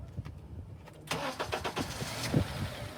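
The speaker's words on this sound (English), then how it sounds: "I'm going to start the car" A Honda car engine cranks and catches, with a few clicks before the starter's churn, then rough close-up engine noise with uneven surges as it fires and settles.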